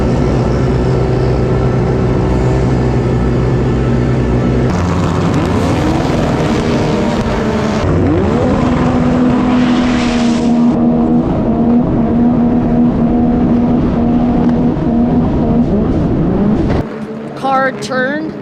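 Roaring engines of Sea-Doo RXP racing watercraft whine and surge past at a Water Jet World Cup race in Thailand, loud and rising and falling in pitch, with a crowd and announcer's voice mixed underneath.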